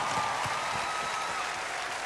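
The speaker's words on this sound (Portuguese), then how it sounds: "Um grande aplauso para o Continente." A concert crowd at a show applauds steadily, dense clapping filling the space at an even, loud level throughout.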